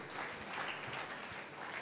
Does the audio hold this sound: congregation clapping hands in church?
yes